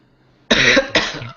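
Two quick, close coughs in succession, harsh and throaty, after near silence.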